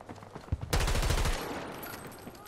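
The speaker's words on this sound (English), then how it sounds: "I'm fucking getting shot at!" Battlefield 2042 gunfire during a Liquidators event fight: a loud burst of rapid automatic shots lasting under a second, followed by a lingering noisy tail, with scattered clicks and impacts before it.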